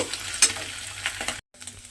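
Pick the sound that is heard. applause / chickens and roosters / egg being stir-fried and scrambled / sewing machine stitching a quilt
egg being stir-fried and scrambled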